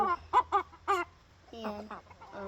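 Brown red game hen clucking nearby in a short run of sharp calls, then softer drawn-out clucks, with a person talking faintly in the background.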